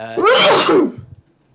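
A single close sneeze bursts out sharply, then breaks off quickly, heard during a casual tabletop role-playing game session.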